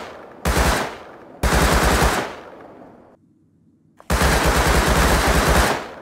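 Loud bursts of rapid automatic gunfire in the survival game Rust, three long sustained volleys separated by brief gaps with a quieter lull before the final burst.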